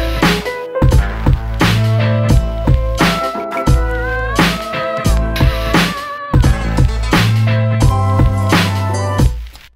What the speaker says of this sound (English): Just a regular sub bass with the drums and everything.